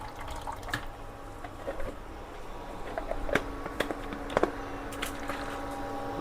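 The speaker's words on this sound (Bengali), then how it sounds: "এতেই জলটা দিয়ে নিলাম যাতে ওটা আগে যে মশলাটা ধুয়ে চলে যায়" Water is poured into a pan to rinse leftover Wai Wai noodle masala, giving soft, faint splashing and trickling with a few sharper drips and clinks.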